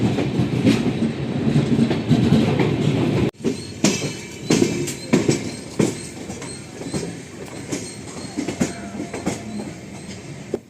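The Coromandel Express, hauled by a WAP 7 electric locomotive, departs from a station in Chennai, with heavy rumbling and rhythmic clickety-clack of wheels over rail joints, loud and close, with no voices.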